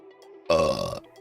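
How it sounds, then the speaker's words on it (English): A single loud, drawn-out burp lasting about half a second, recorded close up during a casual chatting livestream just after a drink is poured, with faint room tone before and after. "Get ready for more burp ASMR"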